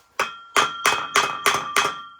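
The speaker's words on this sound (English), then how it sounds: "So if it's nice and tight, I was told to just hammer" Six sharp metallic hammer strikes in a steady rhythm, seating a bearing race during a Volvo 240 clutch upgrade, each ringing briefly with a bright tone, close and fairly loud with no talking.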